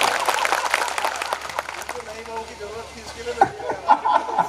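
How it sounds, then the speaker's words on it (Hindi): Audience clapping at a Hindu religious discourse, a loose spread of applause mixed with crowd chatter and light chuckles, with a voice speaking faintly beneath and a few sharper claps near the end. "राजेश जी के लिए जरा ताली बजा दो इनके भाव के लिए।"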